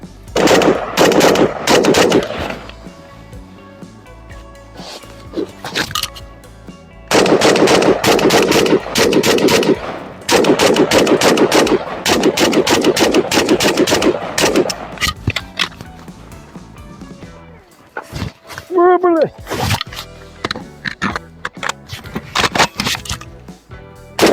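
Rapid bursts of automatic gunfire from a WBP Midi Jack AK-style carbine in 5.45 calibre, loud and close, in several long strings separated by short pauses and a few single shots.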